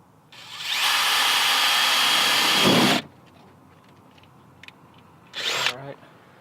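A power drill bores a hole in a car's fender area for fitting Rally Armor mudflaps, whirring loudly for about two seconds, then a short second burst after a pause with light handling noises between.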